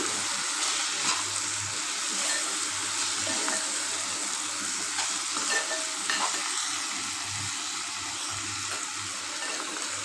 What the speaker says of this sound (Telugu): పసుపు, కారం అయితే వేసేస్తున్నాను.